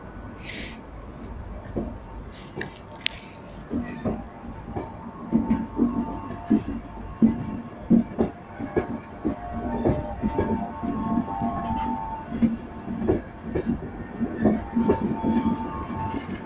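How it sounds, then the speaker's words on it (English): LNER service to London King's Cross with locomotive 82204 leading pulls out of Durham station, a loud rumbling train with rhythmic wheel clatter and clunks building as it moves off, a sharp squeal near the start. "Departing now is LNER cross-country LNER service to London King's Cross with 82204 on the front."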